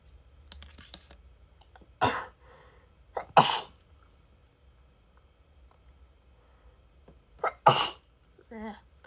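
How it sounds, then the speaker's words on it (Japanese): Several sharp sneezes break a quiet indoor room, two close together, then a pause and a further burst, with some light clicking and soft breathing between. "くしゃみが止まんねえ。"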